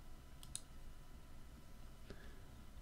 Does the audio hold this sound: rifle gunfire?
no